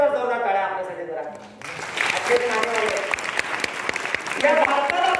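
A speaker talks, then an auditorium audience at a motivational program in Balgandharva Rangmandir breaks into strong, sustained applause, with a voice continuing over the clapping.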